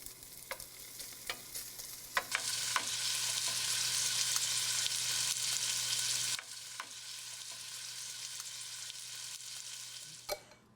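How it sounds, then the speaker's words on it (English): Diced speck sizzling in a pan of olive oil, a bright frying hiss that swells loud for a few seconds as it is stirred, then settles to a quieter crackle, with clicks of a utensil against the pan and no talking. "we're going to cook this now in a little bit of olive oil"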